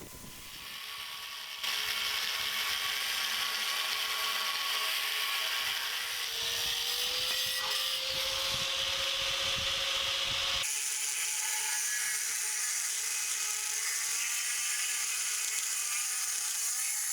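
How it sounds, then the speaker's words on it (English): A plasma cutter slices excess metal from steel lock hasps, a loud, steady hissing roar that starts abruptly and holds for the whole cut, with a faint whining tone drifting underneath and no talking. "I'm using a plasma cutter for this"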